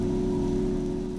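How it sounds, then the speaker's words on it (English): Rain falling in Empyrion Galactic Survival, a steady loud hiss of continuous rainfall with a constant low hum beneath it, no voices. "Apparently it's the rainy season because the rain did not stop"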